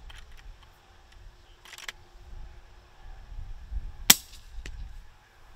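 A .38 Special revolver fires in the Road to Vostok video game, giving a few sharp, fairly quiet cracks with one louder crisp shot standing out over low background rumble, spaced apart and with no talk.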